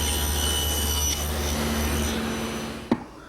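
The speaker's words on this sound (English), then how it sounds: "Here I'm making the first of 2 cheek cuts using my tenoning jig." A table saw makes a tenon cheek cut in pine for a hutch, the workpiece held in a tenoning jig, giving a loud steady whine that tapers off and ends with a short sharp knock.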